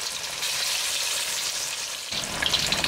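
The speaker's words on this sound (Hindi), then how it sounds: "इसी तरह से सारी फिश को हम फ्राई कर लेंगे।" Rohu fish pieces frying in hot oil give a steady, dense sizzle that carries through the whole stretch, then a brief shift as pieces are lifted and a few sharper crackles pop near the end; no one speaks.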